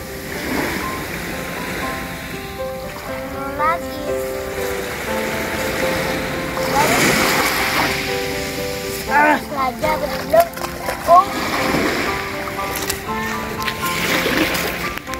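Large ocean waves surge and break repeatedly on a beach at Sabang island in a steady roar, while people talk and music plays nearby over the surf.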